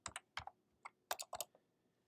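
Quick bursts of keystrokes on a computer keyboard, close and crisp, about a dozen clicks in uneven clusters against a quiet background with no talking.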